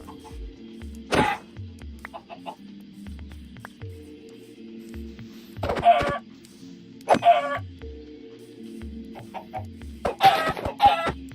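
Chickens clucking in the video game Minecraft, several short separate cluck bursts spaced over a quiet background with soft game footstep sounds between them.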